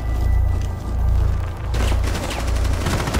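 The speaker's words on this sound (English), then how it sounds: "This gun is a lot like Buck's CA. Tons of damage. Shoots really quickly." Fast automatic gunfire from a weapon in Rainbow Six Siege, loud booming shots for the first part, then a tighter burst of rapid crackling rounds toward the end.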